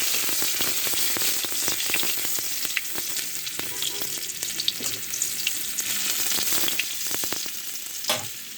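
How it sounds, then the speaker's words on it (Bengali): Chopped small onions frying in hot oil in a wok, giving a steady loud sizzle with crackling spits and scattered pops throughout, no talk. "কড়াইতে তেল দেওয়ার পরে 2টি পেঁয়াজ কুচি দিয়েছি,"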